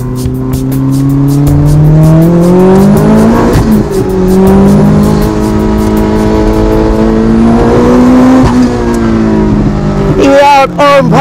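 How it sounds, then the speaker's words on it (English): A turbocharged 400 hp Lotus Exige race car's engine roars loudly at high revs on a Grand Prix circuit, pitch climbing through gear changes with brief drops between shifts, close and continuous. "In one very fast Lotus Exige, owned by Jason of Southern Motorworks."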